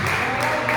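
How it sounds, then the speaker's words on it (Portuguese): A church congregation applauding for Jesus at a worship service, a short, dense burst of steady clapping filling the room. "dando uma linda salva de palmas para Jesus"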